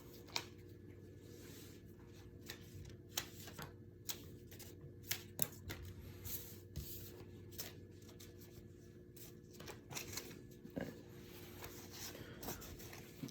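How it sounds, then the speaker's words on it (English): A deck of playing cards being shuffled nearby, with quiet repeated riffling and flicking bursts spread across the stretch, no voices present. "For step two, I gotta shuffle these."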